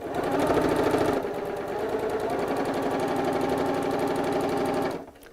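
A sewing machine stitches the raw edge of a bolster cushion at a short stitch length, a close, steady rapid whir running for about five seconds before stopping.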